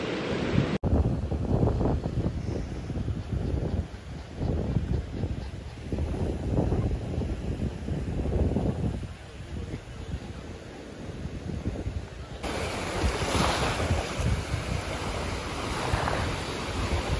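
Ocean waves on the beach at Destin, rolling surf that washes in and out continuously under heavy wind buffeting the microphone, loud and close throughout with no talking.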